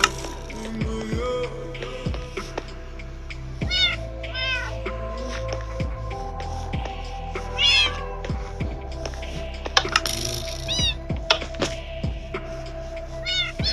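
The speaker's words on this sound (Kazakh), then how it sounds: "Мысықтар жүр ғой." Minecraft cats meow repeatedly in short rising and falling calls scattered across the scene, over game clicks and mechanical ratcheting sounds, with occasional soft background noise.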